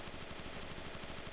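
Rapid automatic M2 carbine fire in the World War II shooter Enlisted, a fast, even stream of shots loud and close across the whole moment with no talk over it.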